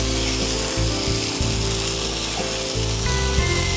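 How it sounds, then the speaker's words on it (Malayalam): Grated coconut being stirred into potato thoran in a pan, with a steady loud sizzle and scraping throughout, broken by a few brief dips. "അതുകൂടി ചേർത്തിട്ടൊന്ന് യോജിപ്പിക്കും."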